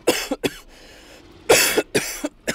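A person coughs close by in several sharp, loud bursts, grouped in two clusters with a short pause between them, and no talk.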